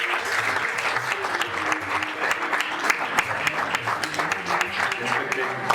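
An audience at a motivation program for tenth-grade students applauds to welcome the chief guest, sustained dense clapping from a large crowd throughout.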